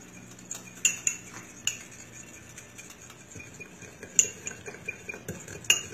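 Utensil stirring a FECO cannabis oil and coconut oil mixture in a container, producing a run of light metallic clinks and taps against the sides, irregular and close, over quiet background, without speech.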